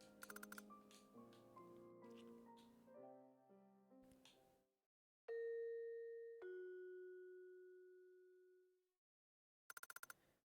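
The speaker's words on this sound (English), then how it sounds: "The sound of a doorbell?" A doorbell in the RPG Maker horror game Saihate Station gives two clean electronic chime tones, a higher note followed by a lower one that rings out and fades, after soft game music and clicks.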